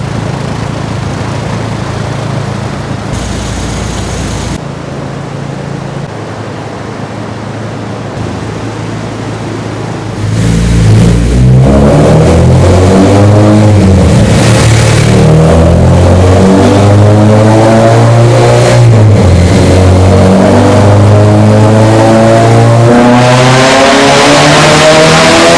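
A Honda Civic Si FA5 with a K-series engine running on a dyno: a steady, loud drone that swells into a harsh, rising rev with climbing and falling engine tones, with no voices.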